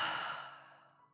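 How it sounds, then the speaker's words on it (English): One long, deep exhaled breath, close and soft, fading steadily over about a second like a sigh. "deep breath."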